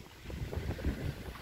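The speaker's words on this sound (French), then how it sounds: "pour l'instant, c'est que du vent." Wind ahead of a thunderstorm in a vegetable garden in northern France blows steadily, a low gusty rumble buffeting the microphone throughout with no voices.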